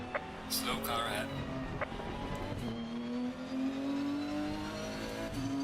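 Race car in Assetto Corsa racing game, engine droning with a rising pitch as it accelerates past, tires briefly squealing, fairly quiet and steady, with someone talking over it.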